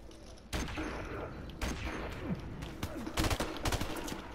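Gunfire in the video game Modern Warfare Remastered on a fairly large map: repeated bursts of automatic shots and separate volleys, some sharp and close, others softer, with no talking.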